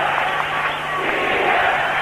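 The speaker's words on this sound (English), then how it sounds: "And with that goal by Nada, the crowd comes alive" Ice hockey crowd in an arena roaring after a goal in a Sokol Kiev versus Calgary Flames exhibition game, a sustained broad cheer with some applause, heard beneath a commentator's voice.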